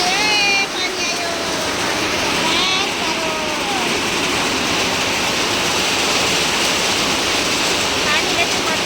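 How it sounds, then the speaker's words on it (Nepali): Heavy rain pours down in a dense, steady roar that fills the whole stretch, with faint high chirps or whistles drifting through the wash. "टक्क पानी आएर रोक्यो नि त"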